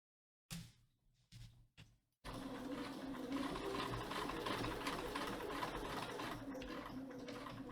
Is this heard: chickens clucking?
no